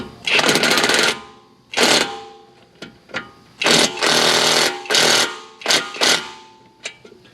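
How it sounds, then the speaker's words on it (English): A pneumatic impact gun snugs a control arm bolt on a truck's upper control arm, firing in several loud, close rattling bursts of about a second each, separated by short pauses and brief taps, with no talking. "he could love tap it with the gun"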